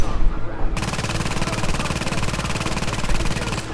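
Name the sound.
turret firing machine gun at enemies in a video game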